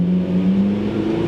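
A stock Honda Civic engine idles steadily on a dyno while warmed up before a pull, a continuous low hum with a faint rise in pitch near the end, close and alone with no voices.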